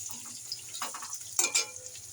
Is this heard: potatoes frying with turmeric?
yes